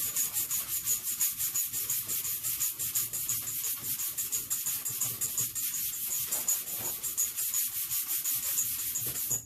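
An autobody panel is sanded by hand with a flat sanding board and 180-grit paper, giving a steady, close rasping rub in quick back-and-forth strokes that runs continuously throughout.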